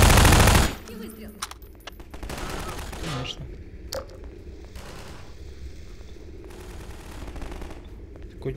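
A loud burst of gunfire from Half-Life 2: Episode One opens abruptly, then decays into echoing rumble and scattered distant shots, with a brief spoken word over the game sound.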